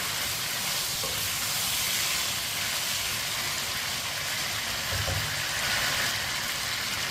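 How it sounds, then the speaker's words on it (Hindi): Meat sizzling as it fries in a pot for aloo gosht, a loud steady hiss of hot oil throughout with a brief clink of a utensil partway through. "3-4 मिनट के लिए मैंने फ्राई कर लिया गोश्त को।"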